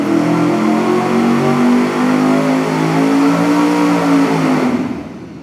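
An engine on a dyno revs hard through a Summit crimped turbo muffler, the loud, steady exhaust roar held for about four and a half seconds before dropping away sharply.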